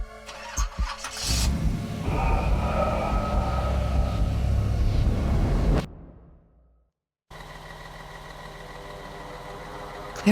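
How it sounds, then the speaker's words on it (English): A truck rumbles and rattles along a rough road with a loud, continuous engine drone, then cuts out briefly into near silence before a quieter steady rumble resumes to the end. "The truck rattled down a rough road."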